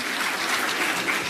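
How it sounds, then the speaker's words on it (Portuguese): A crowd claps steadily, a dense burst of applause filling the whole moment. "Eu gostei das palmas do Paulo Guedes."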